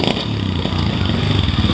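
A trial motorcycle engine revs close by at a trial demonstration at the 2019 Osaka Motorcycle Show, a loud, throbbing burble with quick clattering pulses throughout the short burst.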